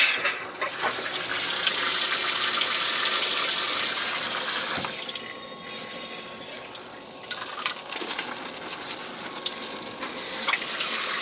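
Water gushes steadily from an outdoor foot wash tap at a winterized summer home, a loud close hiss that shifts in tone partway through without stopping, with no voices.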